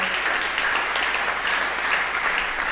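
A church congregation applauding and cheering during a worship service, with steady, dense clapping that fills the room evenly for a few seconds without a break.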